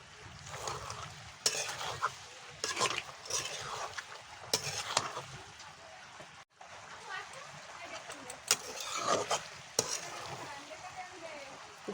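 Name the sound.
beef bhuna being stirred and fried with cumin powder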